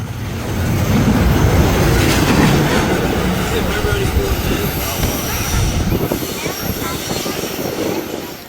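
An eastbound intermodal freight train rolls past close by, a loud continuous rumble with rhythmic clatter of wheels on rail that stays heavy throughout.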